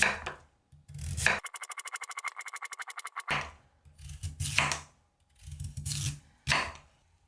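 Radish being cut for kkakdugi in a home kitchen: sharp knife strokes and scraping against a board in separate bursts, with one rapid run of evenly spaced blade taps in the middle, close and clear.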